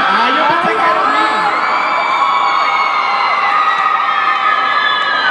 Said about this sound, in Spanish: Yo pensé que me estaban gritando a mí